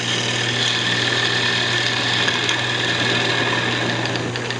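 A gouge cuts into wood spinning on a lathe while turning a wooden clutch, a continuous loud steady whir with a hissing shaving sound and no pauses.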